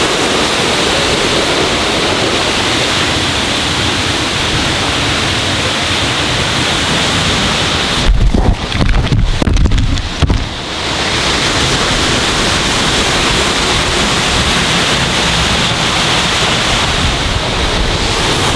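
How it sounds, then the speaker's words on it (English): Icelandic waterfall roaring from right behind the falling water, a loud, steady wash of broadband noise, briefly disrupted by wind buffeting the microphone midway. "this is by far one of the most epic with the rear view of the waterfall"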